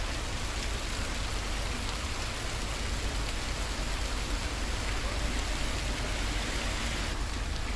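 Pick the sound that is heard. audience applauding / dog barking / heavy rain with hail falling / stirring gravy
heavy rain with hail falling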